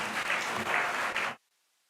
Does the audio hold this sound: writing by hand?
no